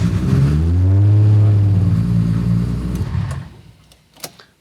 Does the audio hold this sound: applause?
no